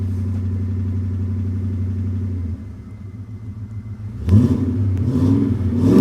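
A car engine drones steadily from inside the cabin while driving, a low even hum that drops a little in pitch midway, then swells louder as the vehicle picks up speed.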